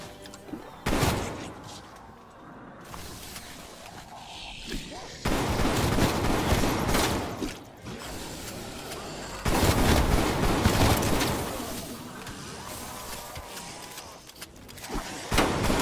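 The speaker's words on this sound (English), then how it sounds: "Assault rifle." Assault rifle fire in the video game Destiny: Forsaken, with dense bursts of rapid gunshots and booming impacts that come and go in loud waves, mixed with other game noise.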